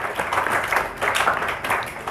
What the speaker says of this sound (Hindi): उसके लिए एक बार फिर तालियां बजाओ।